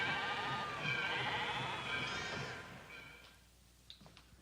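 Several sheep bleat close by, loud wavering cries overlapping in the first half before fading, followed by quieter scattered bleats and a short sharp call near the end.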